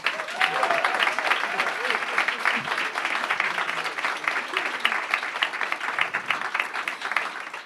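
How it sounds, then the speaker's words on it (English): Sustained audience applause fills the room at an art and activism panel event, steady dense clapping from start to finish with no break. "A round of applause."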